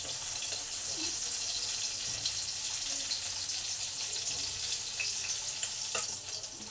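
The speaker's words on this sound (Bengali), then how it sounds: "2টো তেজপাতা দিলাম। এগুলো একটু ভালো করে ভেজে নেব।" Two bay leaves and chilli fry in hot oil in a pan, a steady, bright sizzle that hisses continuously at close range.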